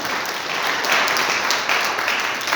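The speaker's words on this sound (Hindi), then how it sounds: "हम चाहेंगे अमित सिन्हा जी के लिए एक जोरदार ताली बजे," Loud sustained applause from a gathered audience at a Modicare business meeting, many hands clapping densely and continuously at close range with no break.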